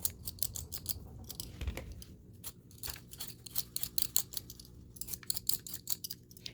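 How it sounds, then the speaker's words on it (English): Potato peeler scraping the skin off a potato at home, a quick series of crisp, close rasping strokes in a steady rhythm, with brief pauses between passes and no talk. "You can just take care of those also while you're peeling."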